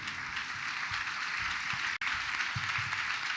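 A church congregation clapping loudly together at a sermon, a dense, steady roar of applause lasting throughout with one brief break in the middle.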